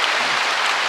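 A church congregation at a Sunday service gives a short burst of dense, steady applause with no voices.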